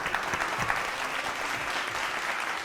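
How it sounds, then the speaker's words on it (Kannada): Applause breaks out for a singer on a singing reality show: a dense, even patter of many hands clapping at moderate volume that holds steady throughout, with no voices over it. "ಇದಕ್ಕೆ ನಾನು ನಿನಗೆ ಚಪ್ಪಾಳೆ ತಟ್ಟಲೇಬೇಕು."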